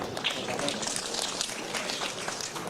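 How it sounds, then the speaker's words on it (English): Crowd clapping at a community awards night honouring a nominee, a dense, even wash of applause sustained throughout with faint voices mixed in. "Give him the round of clap."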